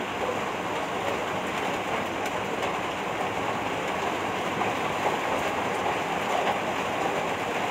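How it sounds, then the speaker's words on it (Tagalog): Heavy rain from Typhoon Kristine in 2024 pours steadily in a dense, unbroken roar that stays loud and even throughout, with no speech. "Nalakas pa ulan. Dadagdagan pa yan."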